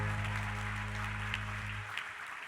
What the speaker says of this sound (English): Can I get another round of applause for all of these nominees?